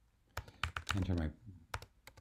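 Keys clatter on a computer keyboard as a name and password are entered, with a quick burst of a few close, sharp keystrokes, then a short pause and several more scattered taps.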